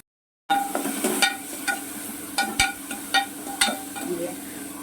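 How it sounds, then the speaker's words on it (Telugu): Crabs frying in a pan with garlic and cumin, a steady close sizzle broken by repeated sharp scrapes and taps of a spatula at irregular intervals. "చక్కగా వేగింది కదా, తొందరగా వేగిపోతుంది."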